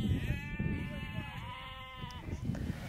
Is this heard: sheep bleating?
yes